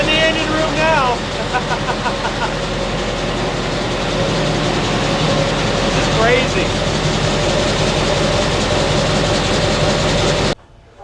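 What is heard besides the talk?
Scania marine engines running in fishing yacht engine room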